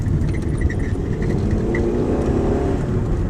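A manual car's engine rumbles and revs through a heel-and-toe downshift while approaching a corner, a steady loud drone heard from inside the cabin with no talking.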